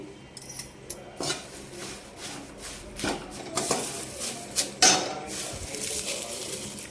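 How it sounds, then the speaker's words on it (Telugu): Curry leaves fry in a pan while being stirred, with scraping and clinking of a spoon against the metal pan in irregular bursts over a soft sizzle, close and alone. "మిగిలిన సగం కరివేపాకు కూడా వేసుకొని ఫ్రై చేసుకోవాలి"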